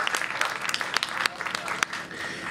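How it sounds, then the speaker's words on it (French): Crowd applause greets the Miss Ronde pageant winner at the Fête du Bras Creux village festival on Réunion, a steady patter of clapping with sharp individual claps and a voice over it. "on applaudit la Miss Ronde de la Réunion"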